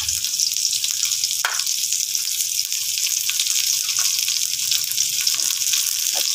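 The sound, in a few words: garlic and onion sautéing in a pan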